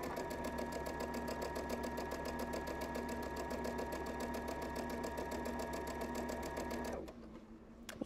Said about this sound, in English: we're going to edge stitch this raw edge